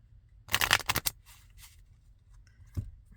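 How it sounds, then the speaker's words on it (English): Cards being shuffled by hand during a tarot-style reading, a quick riffling burst followed by a couple of softer shuffles and a light tap, close and otherwise quiet. "Alright, then a couple shuffles over here."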